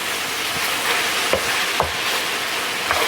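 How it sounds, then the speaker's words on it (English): Wine cooks off in a hot pan that just held oxtails, giving a steady close sizzle and bubbling hiss with a few faint clinks and scrapes. "So we're just going to cook off that wine"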